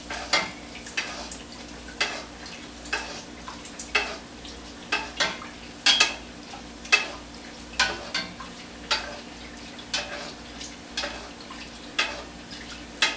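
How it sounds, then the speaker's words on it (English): Bake dough frying in warm oil, a steady sizzle broken by regular splashing strokes as oil is spooned over the top, close and fairly quiet with nobody talking. "then you place it into the oil, because by now the oil is warm and nice"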